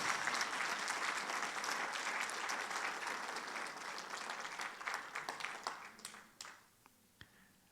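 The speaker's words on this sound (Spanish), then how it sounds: "Dele ese aplauso fuerte a nuestro Señor Jesucristo." A church congregation claps together during a Sunday sermon, a dense sustained wash of applause that thins out into a few scattered last claps and fades away.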